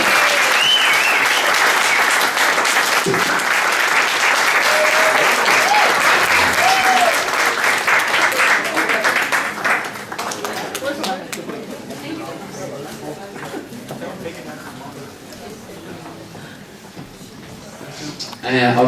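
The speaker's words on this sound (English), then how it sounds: "So you give Vimola a round of applause" Wedding guests at a dinner and speeches give loud, sustained applause that fades after about ten seconds into murmuring chatter and voices.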